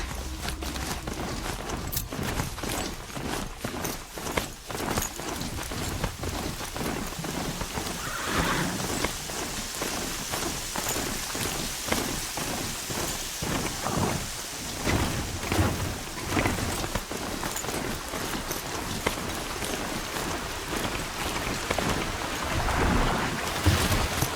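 Rain falls steadily in the Horizon Zero Dawn video game while thunder rumbles and cracks through a stormy outdoor scene, a dense continuous downpour with repeated loud bursts and no one talking.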